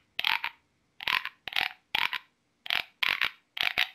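A corrugated bivalve shell played as a Mesoamerican instrument to imitate a frog, giving seven short raspy croaks in an uneven rhythm, loud and close with silence between.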